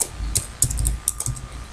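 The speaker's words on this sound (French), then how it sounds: "Je valide ma saisie par la touche entrée du clavier." Clicky bursts of typing on a computer keyboard, a few quick keystrokes in short clusters, close and fairly quiet, with no voices.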